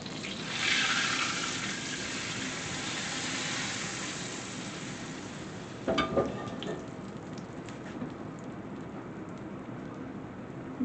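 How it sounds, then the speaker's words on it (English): Brown butter poured over resting steaks gives a soft liquid splash and patter at first, then a quiet steady sizzle, with a few sharp clinks and taps midway. "I'm going to pour it over them"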